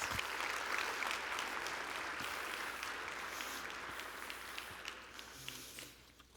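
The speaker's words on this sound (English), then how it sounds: "give yourselves all a big round of applause" Applause fills a large room at the 20th annual AZBio Awards ceremony, a broad wash of many hands clapping that holds steady and then gradually thins and fades toward the end.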